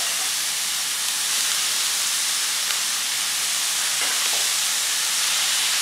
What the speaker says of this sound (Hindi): अब ये कैप्सिकम को भी हमें सौते करना है।